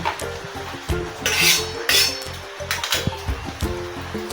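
Cashews and raisins frying in ghee crackle and sizzle steadily while a utensil scrapes and stirs them around the pan in quick, repeated strokes close to the microphone.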